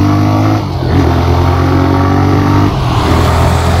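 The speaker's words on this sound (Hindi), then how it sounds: "अलग से पता लगता है कि ईको मोड पर ये बाइक चल रही है, जैसे ही पावर लगाते हैं" TVS Raider 125 motorcycle engine in eco mode, running steadily and then swelling as the throttle opens, close and loud with a continuous droning tone throughout.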